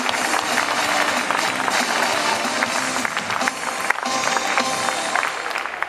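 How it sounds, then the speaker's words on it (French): Audience applause rings out for the winning rider at a CSI 5* World Cup show-jumping prize ceremony, a dense steady wash of clapping from a large crowd lasting several seconds, with no voices over it. "Vos applaudissements pour le vainqueur Stockwatch."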